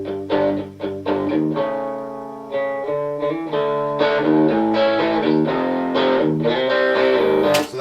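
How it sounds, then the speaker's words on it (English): A thin, tinny electric guitar run through a small-room reverb plays a melodic rock line of sustained and bending notes, loud and close, like a little amp on the floor of a room. "I just want it to be a little tinny guitar."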